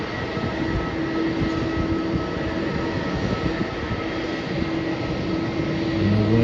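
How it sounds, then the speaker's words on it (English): An airliner landing at Melbourne Airport produces a steady, loud engine roar with a droning hum that holds throughout and swells slightly toward the end, with no talking. "the flight from Guangzhou is just landing now"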